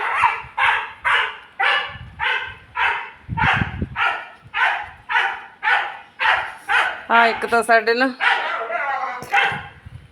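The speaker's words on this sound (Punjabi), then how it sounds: "ਕੁੱਤੇ ਕੁੱਤੀਆਂ ਬਹੁਤ ਭੌਂਕਦੇ ਆ ਬਹੁਤ ਜ਼ਿਆਦਾ" A dog barks in a fast, steady series of loud, close barks, joined near the end by a higher yelping dog, with a person speaking briefly underneath, in a farmyard with cattle.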